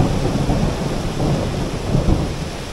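A thunderstorm with heavy rain pouring steadily and low, rolling rumbles of thunder close by, no voices.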